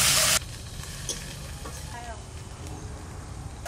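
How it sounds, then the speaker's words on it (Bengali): Onion paste sautés in a pan with a constant close sizzle and occasional scraping stirs, after a brief louder burst at the start. "পেঁয়াজ বাটাটা একটু ভালো করে কষে নেব।"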